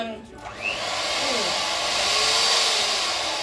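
An electric hand mixer with whisks whirs steadily and loudly in a home kitchen in Lagos, Nigeria, its motor pitch rising as it spins up and holding a constant drone without voices.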